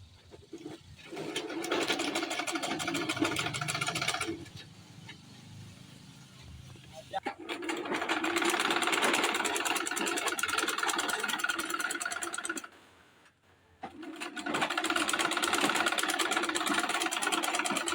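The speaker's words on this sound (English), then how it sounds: "You place it right side of the material and sew it down." A sewing machine stitches zip cloth onto bag material for a family-size travel bag, running in steady loud bursts with short pauses between, and a voice talks over parts of it.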